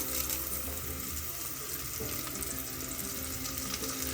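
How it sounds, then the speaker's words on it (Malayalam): Sliced onions and curry leaves frying in a pan for a Kerala-style pulao, giving a steady, dense, loud sizzle that carries on without a break from start to finish. "ഇതിലേക്ക് എടുത്തു വെച്ച സവാള ചേർത്ത്. ഇതിലേക്ക് കുറച്ച് കറിവേപ്പില ചേർത്ത് കൊടുക്കാം."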